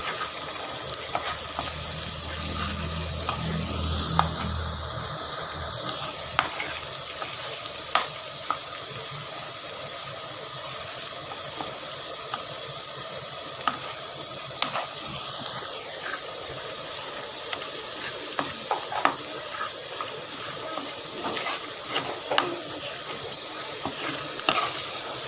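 An egg and vegetable mix with turmeric fries in a pan in a village kitchen, a steady sizzle and hiss running throughout, punctuated by scattered light clicks and scrapes of stirring.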